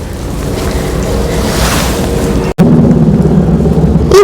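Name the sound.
wind in a moss garden at a hot spring inn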